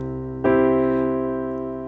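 A sustained piano chord, C with G in the bass, rings out after a brief quiet lead-in, struck once and left to decay slowly; no voices.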